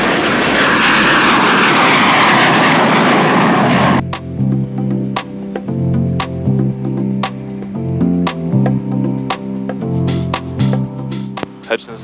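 A Cirrus jet aircraft's engine at a quiet, snowy small-town airport roars loud and steady for about four seconds, then gives way to a quieter, pulsing tonal hum.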